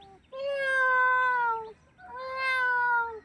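A person imitates a cat meowing in a voice-mimicry contest, giving two long, drawn-out meows separated by a short pause, fairly near and clear.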